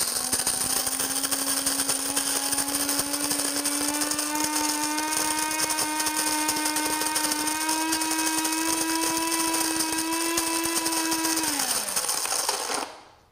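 Cuisinart DBM-8 burr coffee grinder set to medium grinds coffee beans with a steady, close motor whine and gritty crunch for about twelve seconds, pitch rising slightly before winding down and stopping.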